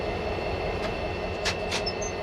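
An Australian C-class diesel locomotive, C509, pulls away from Rhodes in first notch, heard from the cab as a steady low engine drone with a few faint hissing bursts over a short stretch.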